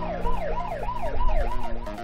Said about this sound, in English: I don't think he notices the siren